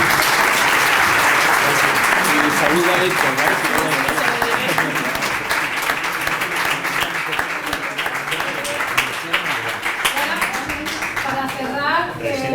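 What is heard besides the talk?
audience applause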